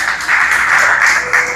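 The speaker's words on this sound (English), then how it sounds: "give them a round of applause." Enthusiastic audience applause at the opening of a new primary and infant school building, dense continuous clapping up close throughout, with no speech over it.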